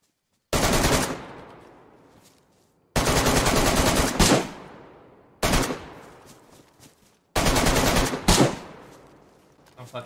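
AK rifle gunfire in the DayZ video game: four loud bursts of rapid automatic shots, each roughly a second long, separated by pauses in which the echo tails off.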